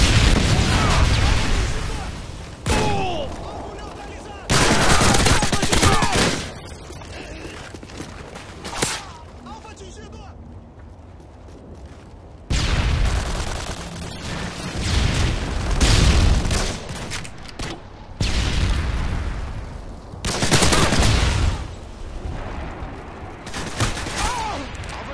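Repeated bursts of gunfire and heavy explosive booms from a predator missile strike in a Modern Warfare 2 ground war match in the Quarry map, loud and dense, with in-game voice callouts between volleys.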